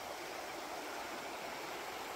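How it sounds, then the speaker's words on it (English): Spring water seeping from the ground runs off as a small stream, producing a faint, steady hiss of flowing water with no voices. "So the water just oozes out of the ground there"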